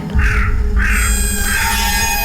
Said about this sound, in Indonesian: Dan suara-suara burung malam yang tak karuan.